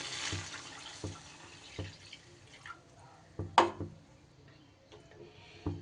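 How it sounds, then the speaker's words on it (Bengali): Water poured into a pan of fried-down masala for a fish roe curry, heard as a run of soft drips and splashes with one sharper splash midway, close by and with no talking. "এইবার এই পর্যায়ে দিয়ে দেব আমি জল।"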